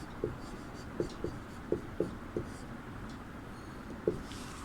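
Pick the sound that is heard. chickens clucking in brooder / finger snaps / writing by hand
writing by hand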